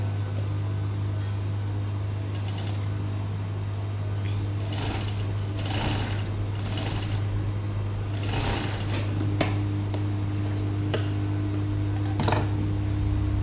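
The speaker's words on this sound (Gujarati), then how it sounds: "જે માર્કિંગ લીધું છે એટલું છોડીને ત્યાંથી સિલાઈ સ્ટાર્ટ કરીશું." Sewing machine stitching an inseam pocket on a men's kurta: a steady low motor hum with repeated bursts of rapid needle stitching, close and continuous, with no talking.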